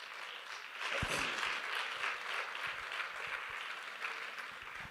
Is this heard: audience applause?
yes